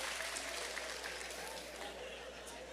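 A church congregation applauds during a sermon, a faint, distant patter of many hands that holds evenly throughout, with a low hum beneath it.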